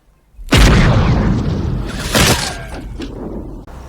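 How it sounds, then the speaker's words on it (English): A distant gunshot: a sudden loud boom that rolls out into a long decaying rumble, followed by a second smaller crack and fading echoes, heard alone without speech. "That's wild, I just heard a gunshot."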